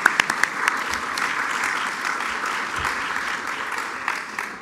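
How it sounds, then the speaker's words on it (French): Steady applause from an audience at a university science showcase evening in Sherbrooke, a few distinct close claps at the start, then even, continuous clapping that gradually thins toward the end. "une bonne main d'applaudissement pour vous"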